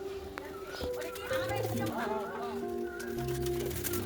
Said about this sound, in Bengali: আর এই দেখেন কবুতরগুলো অপেক্ষা করতেছে খাবারের জন্য